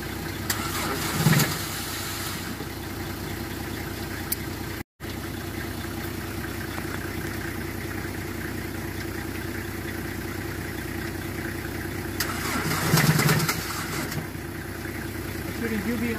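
The engine of a broken-down van cranks in two bursts, turning over without catching, with a steady rumbling background between the attempts and voices talking nearby.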